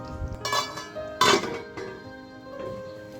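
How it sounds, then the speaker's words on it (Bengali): A metal lid lifted off a pot of egg korma, a few clinks and clatters, the loudest in the middle, followed by a faint ringing tail. "তো ঢাকনাটা উঠিয়ে দিলাম।"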